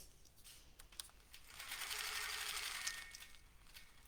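A longarm quilting machine stitching a small quarter-circle curve along a ruler, a soft rapid whir that swells and holds for a couple of seconds amid quiet handling clicks.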